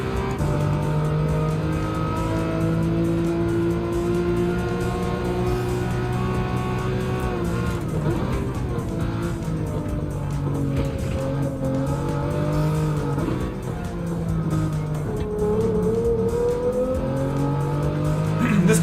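Porsche race car in Gran Turismo 7, its engine droning steadily with rising and falling revs through gear changes and corners, loud and continuous throughout.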